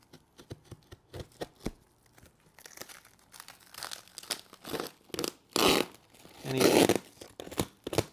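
A cardboard package wrapped in lots of sticky tape is cut open with a blade, producing quiet, intermittent tearing and crinkling that builds into louder rips and crunches toward the end.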